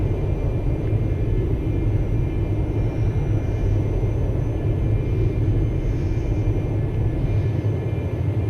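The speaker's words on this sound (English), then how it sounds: "Long, very, very loud engines." A Cessna Citation II's long turbojet engines roar in X-Plane 11, a loud, steady, broadband rumble and whine that holds unbroken from start to finish.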